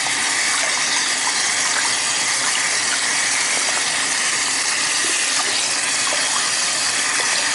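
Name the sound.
rinsing doll hair under running water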